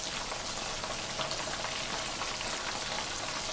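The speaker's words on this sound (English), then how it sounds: "we're going to let those fry" Whole fish and smelts frying in hot oil, a steady dense crackling sizzle that holds evenly throughout with no voices.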